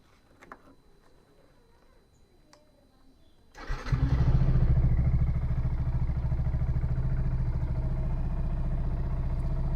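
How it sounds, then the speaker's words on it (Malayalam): A Yamaha FZ-S V3 motorcycle engine starts after a few seconds of quiet and then idles steadily and loudly, a close, even rumble held through the rest of the stretch during an engine flush. "നമുക്ക് എൻജിനൊന്ന് സ്റ്റാർട്ടാക്കി ഐഡിലിടാം കേട്ടോ"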